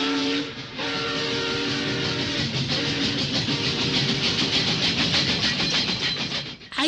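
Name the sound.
man imitating a passing train with his voice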